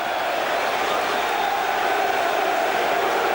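Football stadium crowd during an Everton vs Manchester United Premier League match, a broad continuous roar of distant spectators, steady and even throughout.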